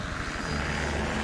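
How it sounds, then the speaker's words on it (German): A mountain rescue helicopter heard as a steady, broadband rotor and engine roar, fairly distant and constant throughout, with no speech over it. "Ah, das ist ein Hubschrauber von der Bergwacht."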